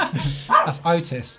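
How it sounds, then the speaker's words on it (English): A dog barks a few short times close by indoors during an interview, mixed in with someone speaking. "That's the dog."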